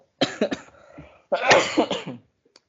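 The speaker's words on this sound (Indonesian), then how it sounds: "masih batuk saya nih ya." A person coughs in two bursts, a few sharp hacks and then a longer, rougher cough with some throat clearing, close and dry indoors.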